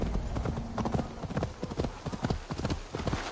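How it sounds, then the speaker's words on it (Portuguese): A horse gallops in the video game Assassin's Creed Valhalla, its hooves pounding in a quick, steady drumming rhythm that carries through the whole stretch, loud and close, with no talking. "dá pra ir tranquilo com um cavalo. Eu já tô fazendo isso."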